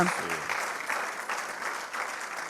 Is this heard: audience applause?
yes